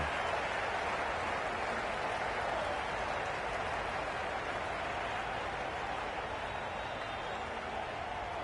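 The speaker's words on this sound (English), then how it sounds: "Will you listen to the crowd? They are loving it." A dense, unbroken roar of a large crowd cheering and clapping in a cricket video game, steady and loud for the whole stretch, with no distinct voices standing out.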